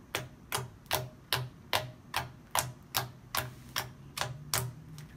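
Glue slime handled and snapped, giving a steady series of sharp, close clicks, about ten evenly spaced pops each roughly half a second apart, with no talking.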